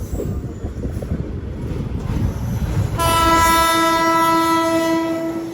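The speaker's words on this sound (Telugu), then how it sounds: "అటువైపు ట్రైన్ అయితే వచ్చేస్తుంది." The Shraddha Setu Superfast Express from Ayodhya Cantt to Rameswaram rumbles past near the Penna river bridge. Partway through, a loud, sustained multi-tone horn blares close by and holds steady over the rolling train noise.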